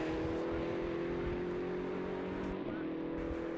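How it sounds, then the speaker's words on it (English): Porsche GT3 Cup race cars at speed on the Brands Hatch GP circuit during a GT Cup race, a steady engine drone with a sustained tonal whine that shifts slightly near the end, heard continuously alongside commentary. "we've got a fight between the KTM and also James Cayley at the wheel of the number 80 Porsche GT Cup car"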